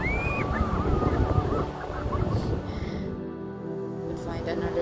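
Flock of geese-like birds honking and calling outdoors, a dense, continuous chorus of overlapping calls at moderate distance, with someone speaking over them.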